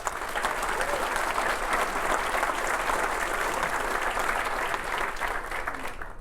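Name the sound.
audience applause honoring city employees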